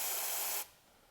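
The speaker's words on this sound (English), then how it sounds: "We're gonna spray the old brake parts cleaner in here and see if it holds liquid" An aerosol can of brake parts cleaner gives a strong hissing spray into the spark plug wells of a BMW S85 V10 engine, then stops abruptly and leaves faint room noise.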